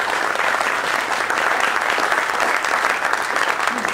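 A conference audience gives a round of applause for sponsors and exhibitors, a thick, even wash of clapping that holds steady from start to finish.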